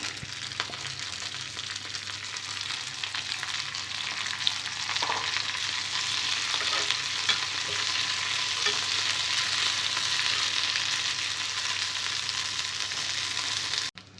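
Fresh mint leaves fry in a pan that was just used for dried red chillies, giving a steady, close, even sizzling hiss that stays constant and then cuts off abruptly at the end, with no voices.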